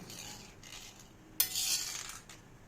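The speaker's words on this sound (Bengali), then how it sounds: "ভালো করে সম্ভারটা মিশিয়ে দিলাম ডালের সাথে" A spoon stirs tempering into masoor dal in a pot, making soft scraping swirls and a brief clink, followed by a hissing sizzle near the end, with no voices.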